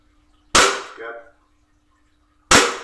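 Two sharp, loud airsoft Glock pistol shots about two seconds apart, each a crisp crack with a short metallic rattle trailing after the first, in an otherwise quiet indoor space.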